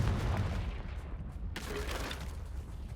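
A Confringo fire spell blasts off in Hogwarts Legacy, a sudden burst of loud noise with a sharp crackling onset midway that rings on as dense sustained rumble and fiery crackle.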